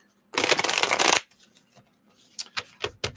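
Tarot cards are riffled together in a dense, close shuffling burst, followed by a scatter of softer card taps and slaps as the deck is handled; no talking.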